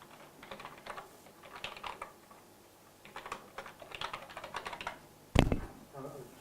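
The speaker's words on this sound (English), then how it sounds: "I could type it in." Bursts of keyboard typing, clicky keystrokes in quick clusters with short pauses, close by, ending in a louder thump and a brief hum.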